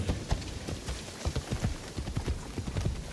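Horse hooves clip-clop in a video game, a quick, fairly even run of hoofbeats close by at moderate volume, with no voices.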